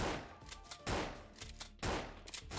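Bursts of video-game gunfire in Minigame Game come as rapid crackling volleys in several clusters, sharp and fairly faint, with no voices.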